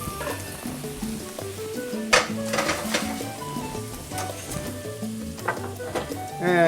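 Tomatoes hit a hot pan for ropa vieja and sizzle, with stirring scrapes and a couple of sharper clatters, all under steady background music.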